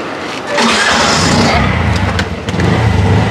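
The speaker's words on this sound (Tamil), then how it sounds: "சரி சரி, ஆட்டோ போகுது." A small auto rickshaw engine starts and revs up loudly, then runs with a steady rattling drone as the auto rickshaw pulls away close by.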